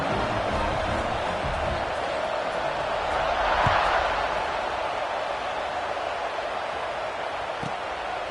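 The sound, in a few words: stadium crowd cheering in the video game Madden '26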